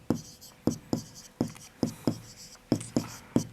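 Chalk or marker strokes on a board while working out fractions, a steady run of short sharp taps and scrapes about every half second, close and fairly quiet.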